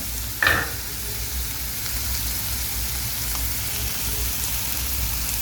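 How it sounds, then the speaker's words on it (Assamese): Continuous soft sizzling of salted food stir-frying in a pan, with a brief clink of a utensil near the start and gentle stirring afterward. "আমি এইখিনি অলপ ধুনীয়াকৈ ফ্ৰাই কৰিম 2 মিনিটৰ কাৰণে"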